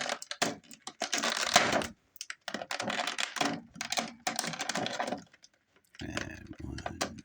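Toy packaging for a McFarlane Toys action figure is cut open, a series of close, crisp snipping, crinkling plastic and tapping sounds in irregular bursts with short pauses between.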